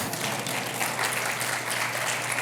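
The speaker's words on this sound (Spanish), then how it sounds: "Un aplauso, Jersey, por favor." An audience in a church sermon setting claps steadily and densely throughout, a sustained wash of applause without any speech.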